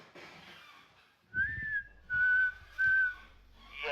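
A person whistles several sustained, steady notes in short bursts with brief pauses, close and clear, with soft low thumps beneath the tones.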